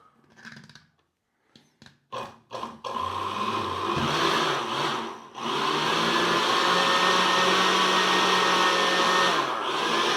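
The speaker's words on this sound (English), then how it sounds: "Okay, let's go ahead and blend this." A blender whirs through chocoflan ingredients with orange zest, starting with a few short pulses before settling into a loud, steady motor roar that dips briefly and then runs continuously to the end.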